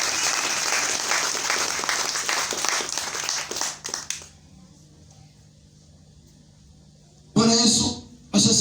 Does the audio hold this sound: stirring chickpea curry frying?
no